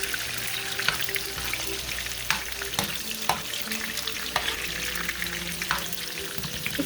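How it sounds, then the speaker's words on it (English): Onion and seasoning sizzle steadily in a pan while cooking for ackee and saltfish, a close, continuous frying hiss broken by occasional stirring clinks, with no talking. "you're gonna let your onion, your seasoning cook a little bit before you put your"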